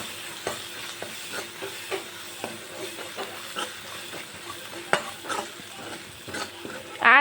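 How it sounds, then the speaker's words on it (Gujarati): Ginger, chilli and garlic paste frying in a pan, a soft steady sizzle broken by repeated scraping and stirring knocks from a utensil, close and moderately quiet with no talk. "હવે એને આદુ મરચાં લસણની પેસ્ટને ગોલ્ડન બ્રાઉન સુધી કૂક કરી લઈશ"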